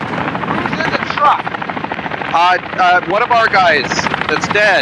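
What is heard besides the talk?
helicopter overhead in a video game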